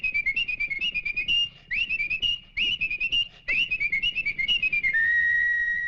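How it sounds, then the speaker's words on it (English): Bright, rapid whistling in quick melodic phrases, broken by short pauses, ending on a held note. "Only fast whistlers could whistle while they worked."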